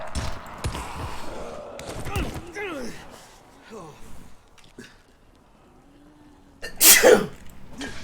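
A single loud, sharp sneeze bursts out near the end, following a stretch of casual talk between players of the zombie game Dying Light.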